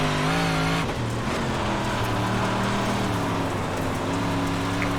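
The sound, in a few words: Big block modified engine bogging down in the iRacing dirt video game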